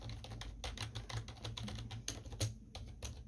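Rapid, continuous typing on a Razer gaming keyboard, with close, crisp keystrokes clattering steadily and no one talking.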